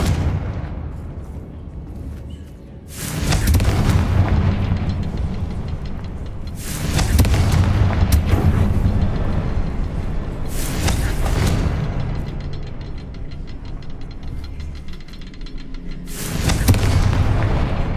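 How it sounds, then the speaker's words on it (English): Confringo fire spell explosions in the video game Hogwarts Legacy, four loud booming blasts spaced a few seconds apart, each with a long rumbling tail. "Confringo!"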